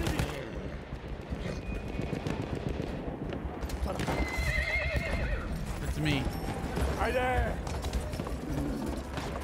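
Game hoofbeats clatter steadily as a horse gallops and slides, with loud neighs and whinnies breaking through and a voice talking over the action, in Battlefield 1 Conquest mode.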